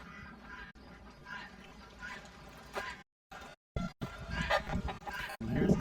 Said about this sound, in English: Oh, one of our foster ducks.